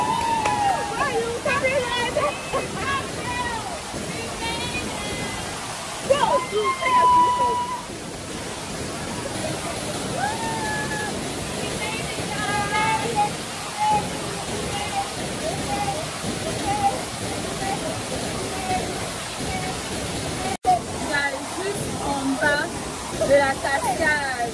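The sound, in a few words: Aburi waterfall in Ghana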